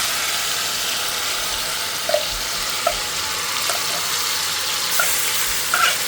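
Paneer frying in a pan gives a steady broadband sizzle, with a few soft clinks and stirring taps scattered through it and no voices.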